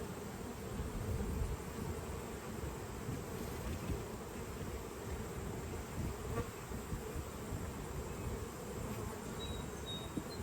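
Honeybees buzzing steadily inside a hive cut out of the wall of a 200-year-old historic house, a dense, continuous drone that stays close and even throughout with no talking.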